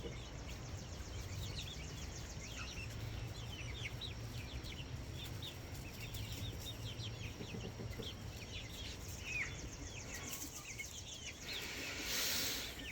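Blue partridge and other backyard chickens with their rooster, soft clucks and chirps scattered steadily at middle distance over a constant outdoor background hum, with no talking.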